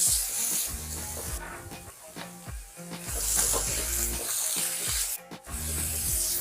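A spoon stirs carrot halwa with chopped walnuts in a pan, giving a rhythmic series of thick scraping strokes against the metal with a faint background sizzle.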